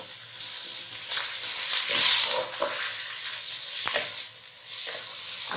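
Capsicum, carrot and green onion sizzle and hiss in a hot pan for chicken soup, a steady close frying crackle broken by scraping stirs and soft knocks.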